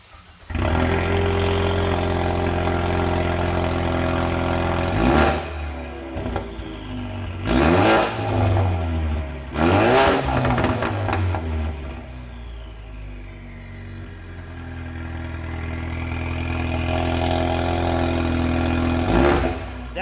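Ford Mustang EcoBoost fitted with an MBRP 3-inch off-road downpipe and muffler delete, starting up and revving loudly up close in several sharp bursts over a steady idle with audible turbo whir, no one talking.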